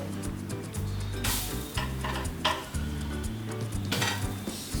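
Bread flipped and roasted in a pan gives a quiet, soft sizzle with a few short scraping and tapping bursts from the utensil, and no voices.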